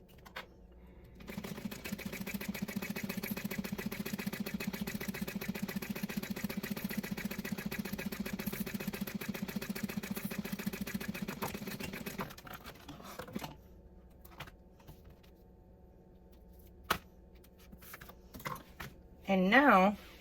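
A sewing machine runs steadily for about eleven seconds, stitching a quarter-inch seam to join fabric pieces of a Quartz clutch. Its motor gives a continuous close whirring drone, followed by a few faint clicks and brief handling noises.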